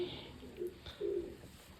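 White pigeons coo softly in a few low, throaty phrases, faint and close by, with a couple of longer rolling calls near the end.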